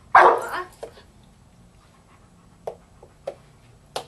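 A dog gives one loud close bark followed by several shorter, softer barks and yips spaced apart.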